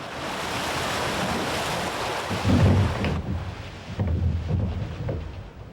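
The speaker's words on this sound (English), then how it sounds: "He has to redirect the rush and weight of water" Heavy water rushing and surging as it is redirected to drive an old mill at Topaz Mill, a steady broadband roar with swells around the midpoint and near the end, no voices.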